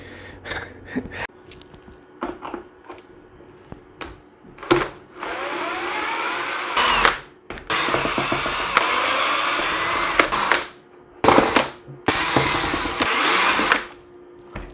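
Power screwdriver backing Phillips screws out of a mobility scooter lithium battery case, in repeated whirring bursts of a second or two separated by pauses, with handling clicks between, close and fairly loud.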